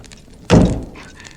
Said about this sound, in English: and then the front door banged.